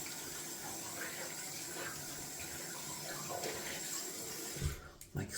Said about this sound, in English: Just gonna rinse off the sink pretty quick. It's full with soap scum and hairs.